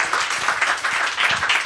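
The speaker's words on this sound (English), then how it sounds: "please join me in giving them the big round of applause" Audience applause for the speakers at a lecture, a steady, full wash of many hands clapping at once, loud and sustained throughout.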